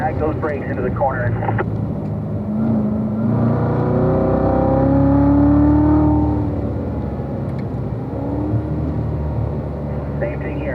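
A race car on a track brakes into a corner and then accelerates out, its engine note rising and falling in a steady nearby drone, with an instructor's voice coaching over it at the start and end.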